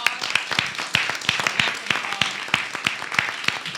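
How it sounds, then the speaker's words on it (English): Audience applause at a Washington mayor-council breakfast greeting Paul Wiedenfeld, the new Metro general manager: moderately loud clapping with distinct sharp individual claps standing out over the steady crowd patter. "So let's give Paul a big round of applause."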